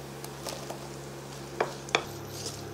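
Chopped garlic, ginger and onion frying in a pan give a quiet, steady sizzle under a low hum, broken by two brief clinks of a utensil against the pan, with no voices.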